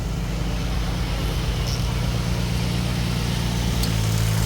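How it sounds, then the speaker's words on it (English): The engine fan on a truck's APU runs with a steady, loud droning hum and low rumble that holds constant, its pitch shifting slightly near the end. "We got the engine fan running on this thing"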